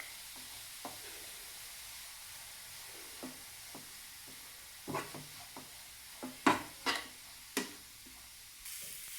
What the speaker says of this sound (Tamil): கேரட் நல்லா வறுத்து வச்சுக்கலாம்